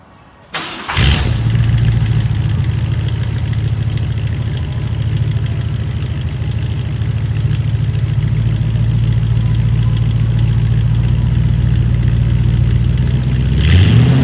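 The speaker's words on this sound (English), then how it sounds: "then I'll rev it a couple times, but I won't rev it too hard because the engine's still kind of cold" A 1958 Ford Thunderbird engine, still cold, cranks and catches, then settles into a steady, loud low idle with a slight rise in pitch near the end as it is revved gently.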